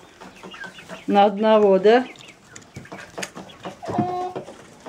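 A flock of chickens in a poultry yard gives loud, nearby squawks and clucks in short bursts, with someone speaking briefly between the calls.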